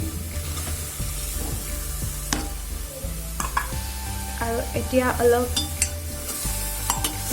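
Soybeans and masoor dal fry in a hot pressure cooker while a spoon stirs them, a close, continuous sizzle broken by scraping and clinking strokes, with a brief spoken phrase over it.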